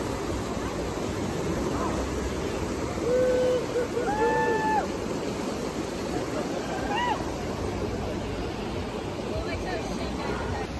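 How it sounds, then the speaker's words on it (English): Rafts carrying river rafters pass by on the Arkansas River, heard as steady rushing water with faint splashing and some distant voices calling out briefly under a constant broadband wash. "And here got some river rafters coming by."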